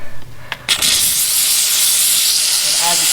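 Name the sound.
steam cleaner spraying steam onto a car wheel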